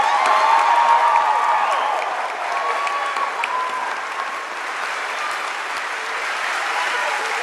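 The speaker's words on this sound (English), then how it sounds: "give yourselves a well-deserved round of applause and cheer." A large graduation crowd at Penn State Abington applauds and cheers, loud dense clapping with whoops and shouts, easing slightly after the first seconds but continuing strongly throughout.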